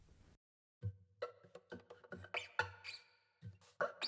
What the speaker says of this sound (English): These 2 keys at the top hold lots of squeaks and shifts, controlled via velocity.